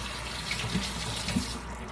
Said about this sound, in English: our sauce has come to a nice boil